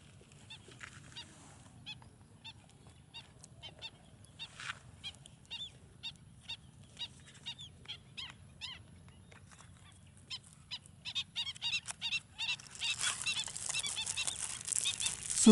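Water birds calling in a mangrove wetland on the east coast of Aceh: a string of short, distant honking calls that thicken into a dense, overlapping chorus toward the end, over a low background rumble.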